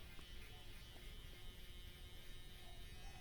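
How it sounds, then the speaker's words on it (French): Electric clippers buzz steadily and close up while cutting a fast fade haircut, a continuous even drone with no pauses. "Là, je vais passer le rasoir"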